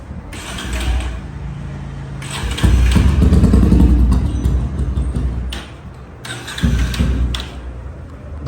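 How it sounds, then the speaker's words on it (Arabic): A Pulsar 180 motorcycle engine freshly overhauled and fitted with a turbo exhaust revs up and idles nearby, loud throttle blips rising and falling with mechanical rattle, no speech. "يلا يا جماعه نسمع مع بعض صوت الموتور"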